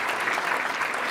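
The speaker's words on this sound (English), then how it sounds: "let's give them all a big round of applause" Dense, steady audience applause at a Charlotte Rotary meeting, many hands clapping at once throughout the short stretch.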